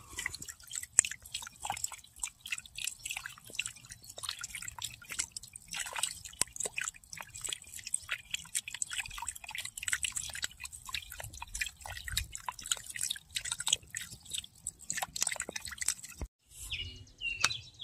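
Quick, irregular drips of water from a rabbit water bubbler in a pasture patter steadily for the whole stretch, small and close, with a soft low hum underneath.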